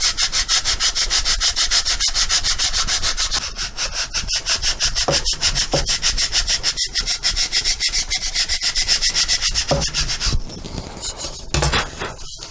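Heavy-duty sanding of the wooden vertical stabilizer for a SIG Kougar model airplane, a fast, steady rhythmic rasp of back-and-forth strokes close up, with brief pauses near the end.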